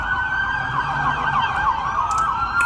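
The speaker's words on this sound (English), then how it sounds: "Police are on the way. Look, you see the sirens right there?" Police sirens wailing at a moderate distance, a steady rising and falling electronic tone held for a few seconds over faint street and traffic noise.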